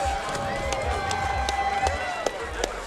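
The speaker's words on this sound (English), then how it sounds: "Ladies and gentlemen, a big round of applause from both of these championship warriors" Crowd at an amateur middleweight MMA championship bout applauding and cheering the fighters, steady roar with scattered claps beneath a voice.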